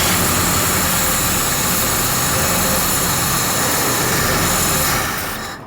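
A 1968 Mercury Cougar with a 289 V8 and three-speed, its engine running loud and close with a rough, steady rumble that holds, then fades away at the end.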